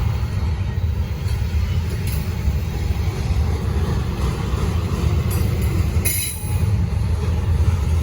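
A long Norfolk Southern freight train, number 241, rolls through downtown Gaffney with a steady low rumble of wheels on rail, broken by high metallic squeals and brief bright screeches around the sixth second, loud and continuous with no talking.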